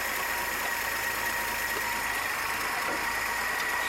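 A 1966 Chevrolet C10 truck engine idles while warming up after heater core replacement, making a steady, even hum with a faint knock underneath, continuous and unbroken, with no speech.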